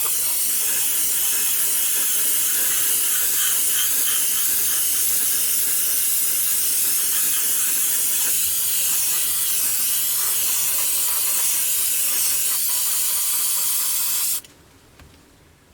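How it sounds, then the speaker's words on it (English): A steady airbrush spraying thinned gloss coat onto a 1/48 Airfix Sabre F4 model hisses continuously for about fourteen seconds, loud and close, then cuts off abruptly into near silence. "we're just going to spray it on just to get a wet look."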